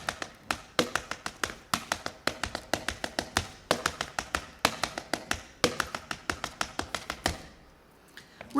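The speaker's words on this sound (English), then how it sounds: "I collect good-sounding leather-soled shoes and solid tap shoes, which I'm wearing now, so that my sounds are strong and distinct." American tap dance steps in solid, leather-soled tap shoes ring out as sharp, distinct close taps in quick rhythmic clusters, alone and crisp, before a brief pause at the end.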